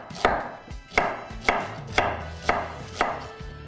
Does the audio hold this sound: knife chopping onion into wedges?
yes